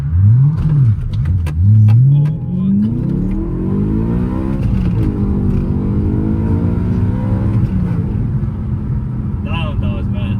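A 17-year-old BMW E92 M3 pulls away in a soft launch with traction control on, the engine note rising loud and close as it revs up, dipping briefly between gears and climbing again.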